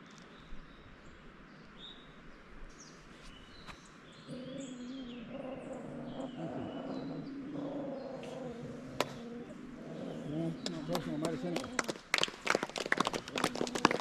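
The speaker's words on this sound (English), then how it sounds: "listen to the birds, listen to the sound of the water" Faint birdsong and chirps in the Colombian jungle on the trek to Ciudad Perdida, over a quiet outdoor hush, with a soft steady tone in the middle and sharp crackling taps building toward the end.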